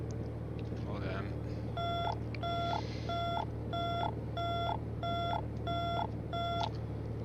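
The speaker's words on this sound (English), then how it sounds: "Landing gear alarm is identified." Aircraft landing gear warning alarm sounding in a cockpit during a training flight, a repeating high electronic beep in regular pulses, about one per half second, over constant engine drone with brief crew voices.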